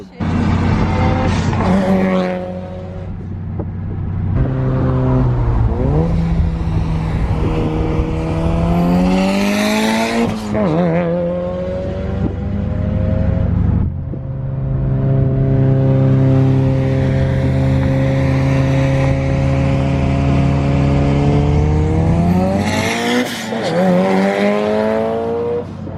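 A Mitsubishi Evo with an open blow-off dump revs hard and loud in several bursts, its pitch sweeping up and dropping between blasts with sharp hissing whooshes of vented boost, close by and with no talk over it.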